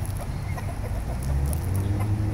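Chickens cluck in short, muffled bursts over a low, rumbling background, with no talking.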